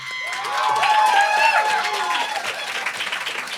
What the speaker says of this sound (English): So can we give a round of applause for, we'll say number 3